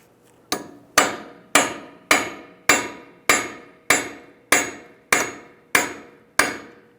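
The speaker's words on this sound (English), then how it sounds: "Just going to take a punch and a hammer." Ten sharp metallic hammer blows from a punch and hammer strike a front wheel hub axle on a 1998-2010 Volkswagen Beetle at a steady, unhurried rhythm, each ringing briefly before the next, loud and close with no talking.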